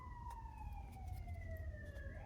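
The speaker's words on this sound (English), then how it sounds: "sorry if you can hear those sirens. They just passed." Emergency vehicle sirens wail faintly in the distance, two steady tones sliding slowly downward as they pass over a constant low background hum, with no other sound standing out.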